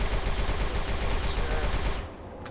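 A blaster weapon fires in fast repeated bursts in the video game Star Wars Republic Commando, loud and close with a dense rattling rhythm, then stops abruptly near the end.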